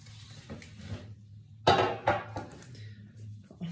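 Metal baking tray set down on a kitchen counter while making granary bread cakes, one sharp clattering knock with a quick rattling follow-up, close and moderately loud over low room hum.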